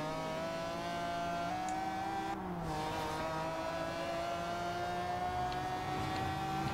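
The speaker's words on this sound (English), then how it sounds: "1997 McLaren F1 GT. Now, this has a long tail." A 1997 McLaren F1 GT in Forza Horizon 2 holds a loud, steady engine drone at high revs with a brief dip partway through and faint tire noise, with no talk over it.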